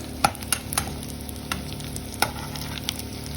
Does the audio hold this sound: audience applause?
no